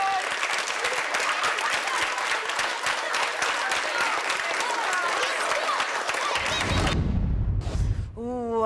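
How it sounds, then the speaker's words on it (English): Studio audience on a children's television show bursts into sustained, dense clapping that fills the room for about seven seconds before cutting off abruptly, followed by a brief swell of music. "let's give him a big round of applause, everyone"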